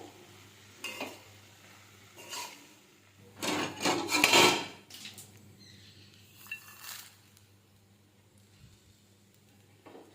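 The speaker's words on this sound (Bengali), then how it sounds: "এবার পোহা বা চিড়েটা জল ঝরানো দিয়ে ভালোভাবে মিশিয়ে নেবো সবজির সাথে" Flattened rice mixed with vegetables is stirred in a pan, giving soft scraping and rubbing strokes that swell into a louder burst of stirring near the middle, then thin out to faint intermittent scrapes.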